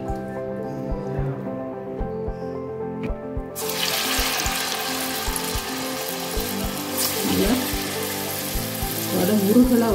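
Urad dal vada frying in hot oil gives a steady crackling sizzle that swells after a few seconds, with faint rhythmic ticking and clinks of utensils in the kitchen alongside.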